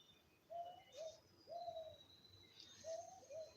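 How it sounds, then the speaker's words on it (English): Outdoors on a clear Sunday morning, a dove gives soft, repeated cooing phrases in an even rhythm, with faint higher bird calls and chirps further off behind it, no talking. "I always love hear those birds"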